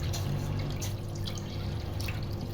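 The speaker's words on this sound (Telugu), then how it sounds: "సో ఇప్పుడైతే పాలు వేసుకుంటున్నాను" Milk poured into a pot of water for making kheer, a steady liquid splash and trickle running continuously at close range with no talking.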